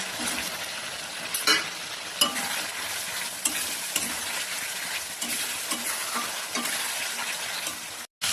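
Potatoes being stirred into a spiced masala in a hot pan, a steady loud sizzle and frying hiss with scraping stirs and occasional spoon knocks against the vessel, no talking.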